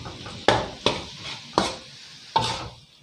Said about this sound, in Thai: ใช้ไฟกลางค่อนไปอ่อนนะครับเราจะผัดไปเรื่อยๆครับ ผัดไปจนหมูสุกมะขามสุกนะครับจนสีเปลี่ยนนะครับ